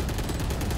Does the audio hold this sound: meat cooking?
no